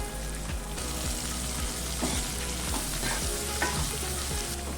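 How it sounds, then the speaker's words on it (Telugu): Ginger garlic paste fries in oil in a pan for an amaranth leaves and dry ribbon fish curry, a close continuous sizzle broken by repeated stirring scrapes and clinks, with no talking. "ఇప్పుడు ఇందులోకి 1 టీ స్పూన్ అల్లం వెల్లుల్లి పేస్ట్ వేసుకుంటున్నాను"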